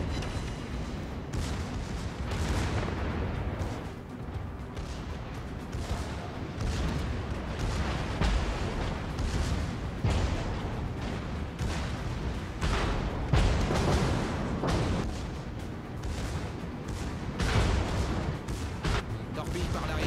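Sustained gunfire going downrange in a military naval operation, dense rumbling bursts and booms rolling continuously at close range with little pause.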